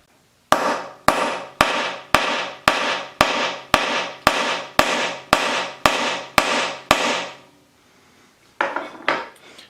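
A hand-made resin hammer strikes hard, about a dozen loud, sharp, ringing blows at an even pace, then a brief pause and a few more hits, close and alone.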